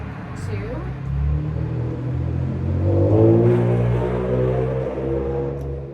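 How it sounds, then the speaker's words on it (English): A loud car engine revs as it passes, its rising roar swelling and fading across the span under steady talk from a nearby instructor. "That was a loud car,"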